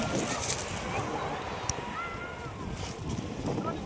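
Choppy sea waves slosh and splash against a small boat off Gen. Nakar, Quezon, heard as a steady, close wash with wind buffeting the microphone while people talk nearby.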